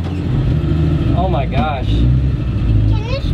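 A 1963 Chevy C10 pickup with a three-on-the-tree column shifter, its engine a steady low rumble running under excited talk throughout, with no distinct revs.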